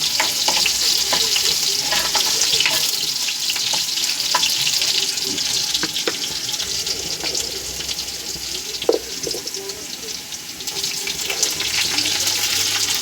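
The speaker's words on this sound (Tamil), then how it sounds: "இந்த பூண்டு கொஞ்சம் ப்ரௌனாக ஆகிற அளவுக்கு வதக்கிடலாம்." Garlic sautés in a hot pan for greens poriyal, a steady loud sizzle and frying crackle running throughout with occasional stirring clicks and no talk.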